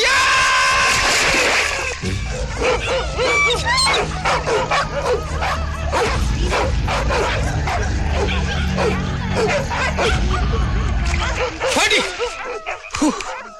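Dogs bark, yip and whimper frantically in a chaotic Malayalam comedy film climax, close and loud, with a short music burst at the start and voices shouting over the snarling pack.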